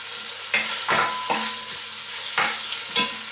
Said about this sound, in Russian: Мелко порезанный репчатый лук. И все это обжариваем.